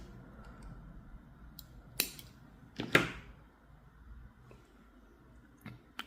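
Wire cutters snip excess component leads after soldering on a small Wi-Fi board for a Flipper Zero, giving a few sharp, close clicks spaced apart against a quiet room, with two louder snaps standing out.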